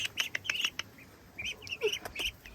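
Whistler the duck gives repeated short, high chirping calls in quick bursts, close by in a homestead pen where chickens are kept, over a faint background hush.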